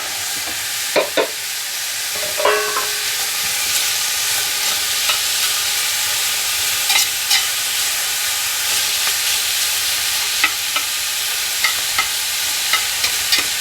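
Bacon and diced onion hiss and sizzle steadily in a hot skillet over medium-high heat, a constant bright frying crackle with occasional louder pops and stirring clicks, no talking.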